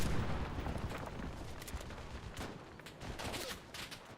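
A mounted anti-aircraft machine gun in Mixers: Legends of Terrestria fires sustained bursts: a dense, rolling fusillade of shots at moderate level that carries on throughout, with little else audible.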